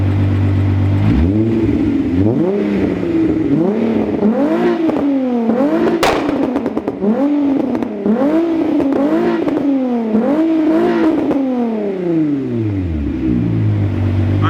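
A tuned car with a new chip revs hard again and again, each rising and falling engine sweep followed by crackling exhaust pops and one sharp, very loud bang, close and loud throughout with no talking.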